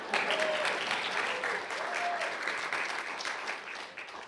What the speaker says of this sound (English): Yes, sure, let's clap for Matthew.